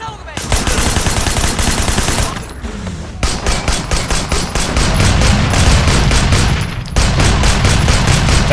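Rapid submachine-gun bursts in Sleeping Dogs ring out loud and close, long stuttering volleys with a brief pause around mid-clip before the firing resumes.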